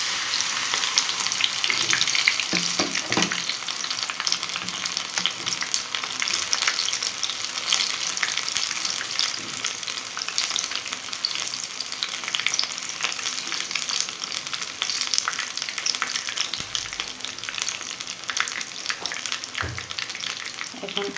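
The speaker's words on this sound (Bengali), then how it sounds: "নিয়ে এখন এটা আমি তেলের মধ্যে ছেড়ে দেব।" Batter-dipped coriander leaf chops deep-frying in hot oil, a steady loud sizzle and crackle running throughout with occasional bumps and clatters of handling, no talking.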